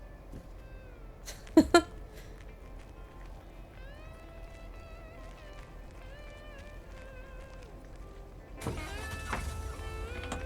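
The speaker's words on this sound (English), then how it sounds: "Right, so that's the cat." A cat meows a couple of times in the video game Lake, the calls standing out briefly and loudly over a quiet in-game ambience with soft tonal music, before a louder burst of game sound near the end.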